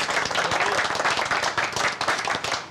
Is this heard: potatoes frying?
no